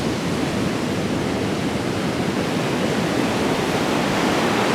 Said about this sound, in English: I hear the noise of the ocean.